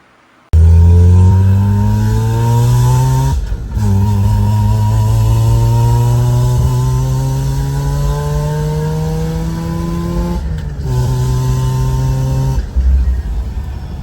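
A Mazda RX-8 rotary engine, fitted with a Bennet Built coil pack, runs loud and close and revs up repeatedly, each rising pull cut off sharply before it climbs again, with no talking.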